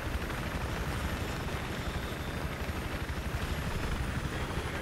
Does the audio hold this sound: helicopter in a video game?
yes